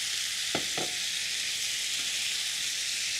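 Butternut squash sizzles in a frying pan, a loud, steady frying hiss throughout with a couple of brief thuds early on.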